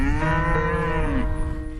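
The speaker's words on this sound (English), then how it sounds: "some well-fed cows that are more pet than porterhouse." Well-fed farm cows, one giving a long, loud, drawn-out moo close by that slides down in pitch near its end, with no talking.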